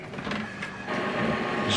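HP OfficeJet 9019e printer whirring and humming during setup, a steady close mechanical drone with a small shift in pitch partway through, moderately quiet in a room.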